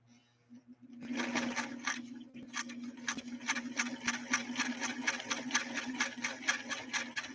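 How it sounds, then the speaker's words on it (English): A Singer Stylist sewing machine stitches zigzag on satin, starting after a second of quiet with a steady, rapid mechanical clatter and a low motor hum, loud and close, with a slight unevenness as the pace eases. "here we go with a zigzag, and then we'll kind of go from there, and we'll see how we do on this satin material"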